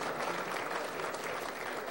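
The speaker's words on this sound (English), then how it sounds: "Let's get a round of applause again for Alex Wolfe." Banquet audience applauding after a scholar-athlete award, a dense steady wash of many hands clapping together for about two seconds with no speech over it.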